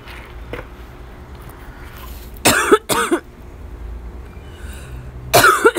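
Three sharp coughs in a quiet room, two close together and then one more a few seconds later.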